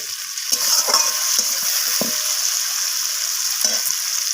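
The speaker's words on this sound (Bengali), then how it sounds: "সিমগুলোকে দেওয়ার পর পেঁয়াজ আর টমেটোর সাথে এইভাবে নাড়াচাড়া করে ভাজা ভাজা করে" Flat beans stir-fried with onion and tomato in a pan, a steady close sizzle with a few scraping stirs of the spoon scattered through, no voices.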